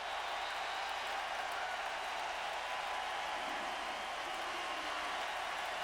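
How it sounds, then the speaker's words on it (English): Crowd applause at the 2012 MLB All-Star celebrity softball game, a faint, distant, unbroken hiss of many hands clapping that barely changes in level. "This applause is going to cut out a lot of your jokes."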